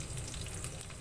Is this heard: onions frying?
yes